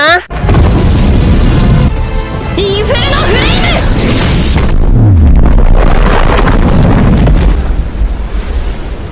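A loud, booming explosion with crashing impacts erupts in an anime battle scene, thundering and filling the sound for several seconds amid a dense, roaring rush.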